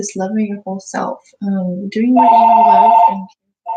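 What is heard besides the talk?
telephone ringing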